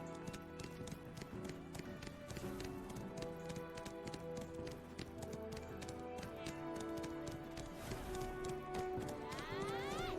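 Horse hooves clip-clop steadily through a ride in the online role-playing game Black Desert Online, the rhythmic footfalls sitting amid dense game music and ambient effects at constant loudness.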